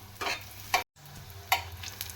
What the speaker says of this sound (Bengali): একটু আস্তে আস্তে এভাবে ভাজতে হবে, না হলে মুড়িগুলো খুলে যেতে পারে।